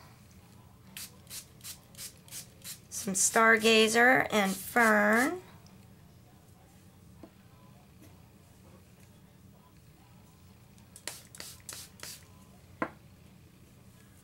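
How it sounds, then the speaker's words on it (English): A hand water mister sprays a mix of gum arabic and artist pigments in a few quick, soft hissing puffs, first as a short run of pulses, then a second cluster later. A voice speaks briefly in between against a quiet background. "So I'm just going to spray this."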